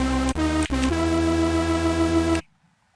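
A Hoover synthesizer sound plays alone, a thick detuned buzzing tone with a couple of brief retriggers, then it cuts off abruptly into silence.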